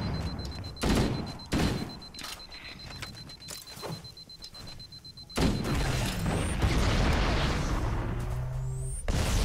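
A sticky grenade detonates in Halo: Combat Evolved, giving a sharp booming burst followed by a second heavy blast and a rumbling, crackling roar amid game sounds, with no voices.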